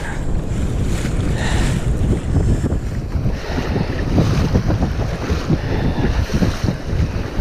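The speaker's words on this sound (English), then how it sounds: "Really getting rougher. Got to power through these swells." A kayak punches through rough sea swells as strong wind buffets the microphone, with constant rushing water and slapping waves that stay loud throughout, and no talking.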